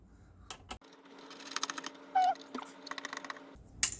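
Small screws are backed out of the M.2 slot on an MSI B550 Gaming Edge WiFi motherboard, giving soft, close mechanical clicks and ticks in quick irregular bursts over a quiet room.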